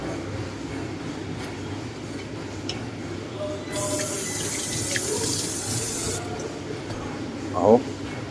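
Water runs from a gym faucet in a loud hissing gush for about two and a half seconds, rising out of background room noise and then cutting off, followed by a brief clatter.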